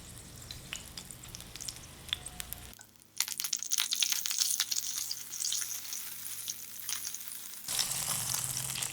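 Keema egg roll (baida roti) frying in a pan, a steady close sizzle that drops briefly then returns louder with crackling spatter and small stirring noises, no talking.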